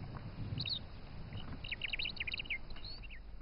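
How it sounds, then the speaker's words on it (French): A red-billed oxpecker calling in the African bush, a run of thin, high chirps and short twittering notes, fairly faint and distant against a soft rustling background, with no voices. "Pique-bœuf à bec rouge"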